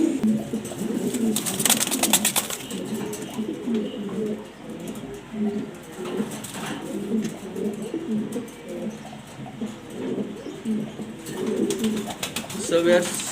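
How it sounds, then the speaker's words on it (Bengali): A large male pigeon coos in repeated, throaty rolling calls close by, while someone talks over the cooing. "নটটা ডাকছে আপনারা দেখতেই পারতেছেন"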